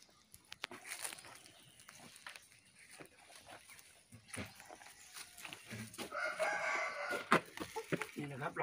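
Organic laying hens in a backyard coop cluck and a rooster crows, scattered calls building louder toward the end, with someone speaking at times over the birds.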